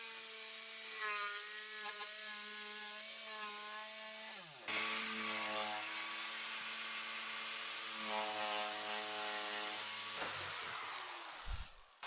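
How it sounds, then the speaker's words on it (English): A jigsaw cuts a freehand heart shape out of a wooden stair-gate panel, its motor whining steadily in close, loud bursts with a brief pause and pitch change midway before the cut ends. "so I'm going to cut that with a jigsaw, just freehand drew that"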